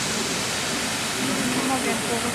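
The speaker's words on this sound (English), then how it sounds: "a pretty little water feature" A small water feature on Margaret Island in Budapest splashes continuously, a dense, even hiss of falling water filling the whole moment without pause.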